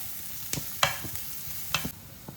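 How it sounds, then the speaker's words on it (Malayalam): Onions sautéing in a pan for pepper mushroom rice, a soft steady sizzle under a few sharp scrapes and knocks of a spoon stirring, quiet and close with no talking. "ആദ്യം ഉള്ളി ഒന്ന് നന്നായിട്ട് വഴറ്റിയെടുക്കാം"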